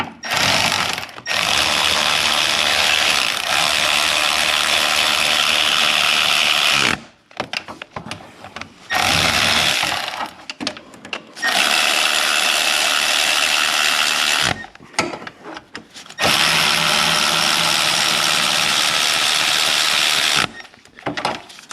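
Ratchet wrench tightening a power steering hose fitting on a 2006 VW Beetle 1.9L diesel, with close, rapid clicking in several long bursts separated by short pauses and no talking.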